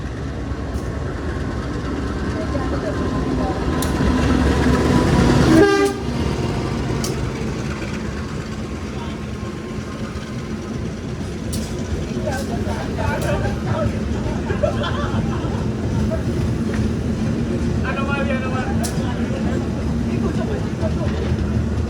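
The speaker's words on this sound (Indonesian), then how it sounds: "ini dari arah selatan kereta api Majapahit masuk" A Majapahit passenger train from the south rumbles into a station with steady low rolling noise, a sharp brake squeal midway, and crowd chatter in the background.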